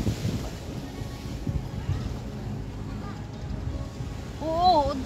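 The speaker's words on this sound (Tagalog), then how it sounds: "kusog kayong hangin" Strong seaside wind buffets the microphone in a steady broadband rush with low rumble, while faint voices and a brief louder call surface near the end.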